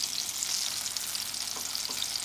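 Apple fritters with big chunks of apple frying in hot oil, a steady close crackling sizzle that holds even and loud throughout, with no talking.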